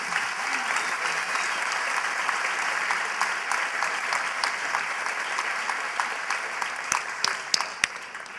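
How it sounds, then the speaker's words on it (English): A high school graduation audience claps steadily for honored seniors, a dense, sustained wash of many hands clapping in a large space, with a few sharper individual claps rising toward the end. "Please give them another round of applause"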